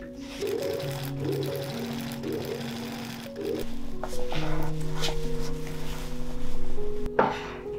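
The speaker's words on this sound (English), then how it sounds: "I sewed a small fabric patch onto the bottom of the opening" A sewing machine stitches a seam in a tulle dress. The motor whirs in short runs that stop and start several times, with soft handling noises and a brief clatter near the end.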